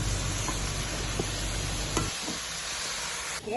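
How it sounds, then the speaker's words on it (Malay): Grated coconut stirred and fried in a pan for kuih ketayap, a continuous sizzle with scraping stirs that drops to a quieter crackle partway through. "Gaul kelapa hingga menjadi warna kekuningan."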